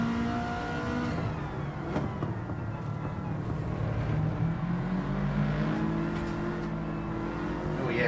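A race car engine in Gran Turismo 7 drones steadily through the whole stretch, its pitch sagging and climbing as the car brakes and accelerates, with no one talking.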